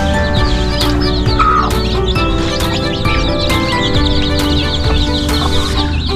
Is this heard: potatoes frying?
no